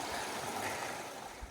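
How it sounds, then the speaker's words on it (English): Steady broadband rush of a late-season creek in December flowing along a backpacking trail at Mission Creek, a continuous close wash with no voices. "here's the creek flow rate on December 24th, 2024, late season"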